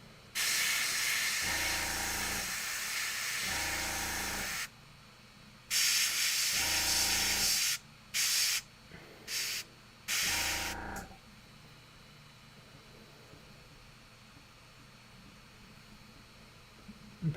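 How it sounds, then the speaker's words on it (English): An airbrush sprays ink onto a Warhammer 40k Sisters Novitiate miniature in sustained loud hissing bursts, two long ones followed by several shorter puffs, with a quieter background hum between them. "inks run through the airbrush so well"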